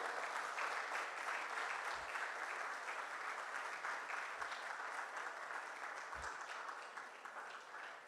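Hospital anniversary celebration audience applauding steadily, a broad continuous wash of clapping at moderate distance that slowly fades toward the end, with a few low thumps.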